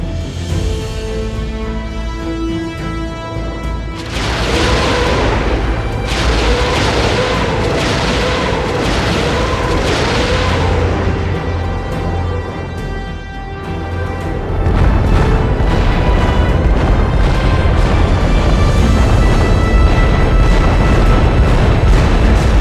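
Rockets pound an airfield in IL-2 Great Battles, a dense barrage of loud booming explosions and rumbling blasts rolling on continuously, heavy and close, with no voices.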